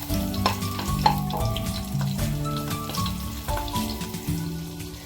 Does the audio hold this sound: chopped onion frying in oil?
yes